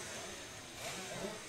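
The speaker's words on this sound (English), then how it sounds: "Let's just listen to these engines." Racing 250 gearbox supercart kart engines at Nutts Corner kart circuit during the Irish Kart Grand Prix, a dense continuous roar of several high-revving two-stroke motors, fairly loud and steady with slight swells as they rev.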